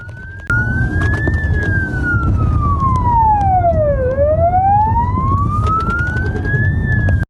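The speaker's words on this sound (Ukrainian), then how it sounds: "патрульна поліцейська машина за нею, увімкнені сигнальні сирени та маячки" A loud ambulance siren wails, sweeping down and back up in a slow cycle, heard close over the rumble of a moving vehicle, with a police patrol car following during a police operation in Uzhhorod.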